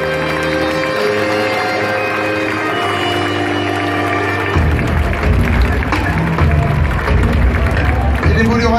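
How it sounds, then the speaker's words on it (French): Crowd at a Reims club celebration applauding a named player, broad sustained clapping and cheering swelling after a few seconds over background music and babble. "On l'applaudit,"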